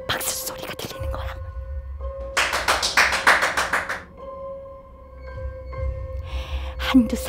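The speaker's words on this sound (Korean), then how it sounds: "어딘가에서 커다란 박수 소리가 들리는 거야." A burst of rapid, loud clapping from many hands for a couple of seconds, set between quieter stretches with a low hum underneath.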